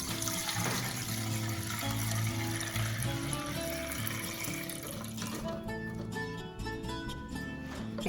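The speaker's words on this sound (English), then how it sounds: "I'm just going to pour it right in there" Lemon-peel flavored vodka poured through a colander into a bowl, a steady splashing liquid stream that runs for several seconds, then thins into lighter trickles and drips near the end.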